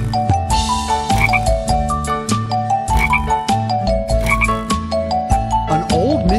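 Frog croaks performed within a children's nursery rhyme song, repeated rhythmic croaking over bright musical accompaniment with bass and melody, loud and up front.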